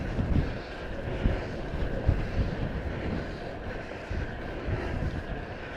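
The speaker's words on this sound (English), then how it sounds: "It's flattened off and I'm hit by the wind." Strong wind buffets a cyclist on an exposed, flattened-off stretch of a winter ride toward Bullbarrow in Dorset, a steady broadband roar with low gusty thumps against the microphone throughout.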